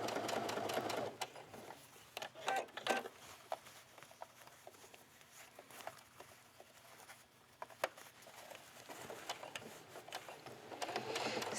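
Domestic sewing machine running over a dress seam to attach a cap sleeve, its fast steady stitching patter coming in bursts separated by short pauses, close by and moderately loud.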